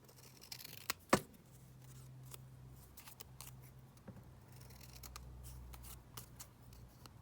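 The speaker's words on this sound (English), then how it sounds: "let's trim these down because these are quite huge" Scissors snip through pieces on a desk, a couple of sharp close cuts early, then quieter sporadic snips and rustling at low level, with no voices.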